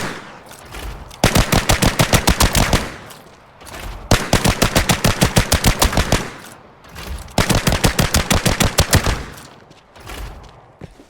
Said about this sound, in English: if you were to be clearing a corner with this gun